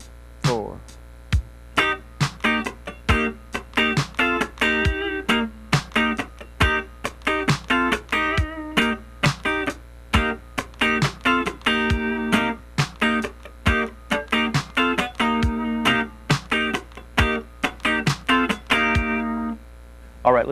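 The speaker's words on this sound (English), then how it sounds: "So the part slowly, in its entirety," Funk rhythm guitar part played slowly on electric guitar, with steady choppy strummed chords and muted percussive strokes running the full length, close and moderately loud.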